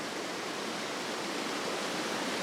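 A Dartmoor stream flows over rocks in winter with a steady, broad, even rush of water, unbroken and fairly close.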